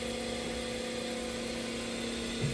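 A 2014 Haas VF-2 CNC vertical machining center's spindle runs at 2,000 RPM, giving a steady, faint mechanical whine with a constant tonal hum and no voices.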